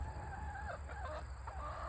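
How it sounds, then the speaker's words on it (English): Chickens clucking and murmuring softly, several birds close by, over a steady background hum. "so here are the chickens"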